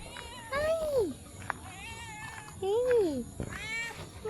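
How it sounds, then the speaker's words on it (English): A small kitten meows twice, a drawn-out falling mew and then a shorter one, close by, while someone speaks softly between the cries. "there's a little kitty"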